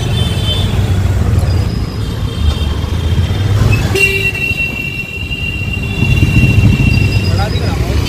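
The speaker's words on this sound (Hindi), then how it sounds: "ट्रैफिक देखो कैसी है सामने" Car horns toot several times in heavy road traffic, with short beeps over a constant engine and road rumble, while a person talks close by over the noise.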